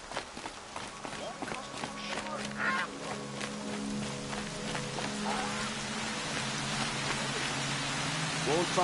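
Rain falls steadily in the video game Horizon Zero Dawn, a constant hiss under footsteps and a voice speaking, with the patter growing slightly louder toward the end.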